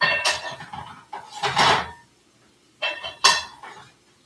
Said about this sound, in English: So these handles go right onto the cookware